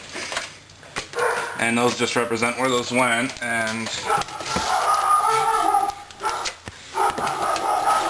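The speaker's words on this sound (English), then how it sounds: "sorry about the dogs" Dogs bark a few times in the background while someone talks over them close to the microphone.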